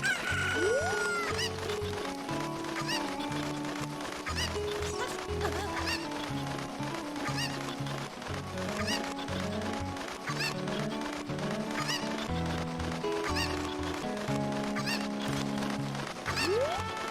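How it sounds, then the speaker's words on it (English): Chicken clucking and squawking in the video game Legend of Zelda: Ocarina of Time, repeated game bird calls over a continuous backdrop of in-game music, with no talking. "Alright, chicken, you, come here."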